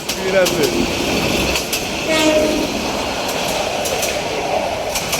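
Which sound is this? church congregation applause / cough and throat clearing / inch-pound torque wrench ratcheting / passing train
passing train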